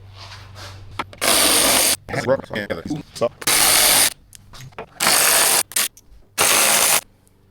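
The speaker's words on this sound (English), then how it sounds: "So it takes a T25 Torx bit to take off the windshield." Four loud, close bursts of a cordless driver spin a T25 Torx bit while taking the windshield off a 2025 Harley-Davidson Road Glide, with each burst lasting about a second and clicks and handling noises filling the gaps between them.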